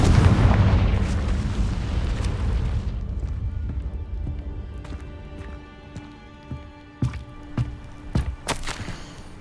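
Confringo fire spell in Hogwarts Legacy, a heavy booming blast that decays over several seconds, followed by scattered thumps and sharp cracks of combat effects.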